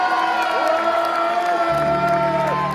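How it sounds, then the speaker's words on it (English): Festival concert crowd at the Festival Interceltique de Lorient 2023 cheering and whooping loudly and steadily, with broad crowd noise throughout and some tonal sounds over it. "Can you just give yourself a big round of applause?"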